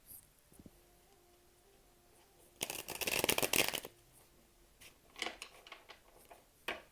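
Tarot cards being shuffled close by, a quiet riffling burst followed by a few softer card flicks and taps in a calm, otherwise quiet room.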